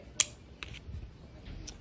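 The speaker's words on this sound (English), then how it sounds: "So with this, you can use your nippers to cut them" Nippers snipping pieces for a driftwood mosaic, a few sharp, close clicks spaced apart, quiet otherwise.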